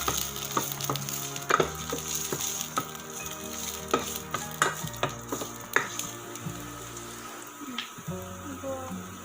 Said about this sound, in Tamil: கொஞ்சம் இஞ்சி, பூண்டு ஆட் பண்ணிக்கிறேன். சேர்த்து வதக்கிக்கலாம்.